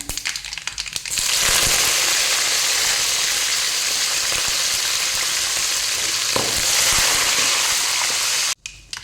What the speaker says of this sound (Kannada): ಉದ್ದಿನ ಕಡಲೆ ಬೇಳೆ ಫ್ರೈ ಆಯಿತು ಇವಾಗ ಸ್ವಲ್ಪ ಕರಿಬೇವು ಹಾಕ್ತಿದ್ದೇನೆ